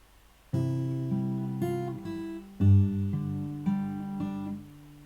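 Fingerstyle acoustic guitar playing a slow passage of a piece from Final Fantasy X, clear sustained chords and melody notes plucked one after another, close and alone with no talking.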